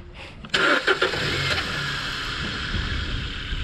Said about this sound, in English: I'm going to start the car and see how it sounds